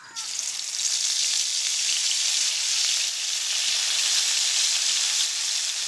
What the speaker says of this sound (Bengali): তেলে দিয়ে দিচ্ছি জিরে বাটা